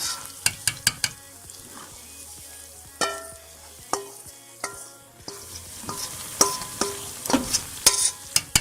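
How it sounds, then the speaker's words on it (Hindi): Semolina halwa mixture, for makhandi halwa, stirred quickly with a spoon in a pan of hot syrup, giving sharp repeated scraping clicks over a soft sizzle, close and fairly loud, with no talking. "आपने चम्मच को रुकने नहीं देना, आपने अच्छी तरह से जल्दी जल्दी से मिक्स कर लेना है ताकि लम्स ना बने"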